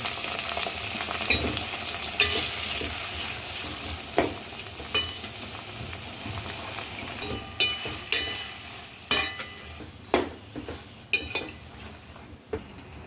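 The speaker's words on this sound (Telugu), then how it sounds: "కొంచెం నూనె వేసుకొని దాంట్లో వంకాయలు వేసి వాడతాను" Brinjal pieces frying in a little oil while being stirred, a steady close sizzle broken by sharp scrapes and clinks of a spatula against the pan at irregular intervals.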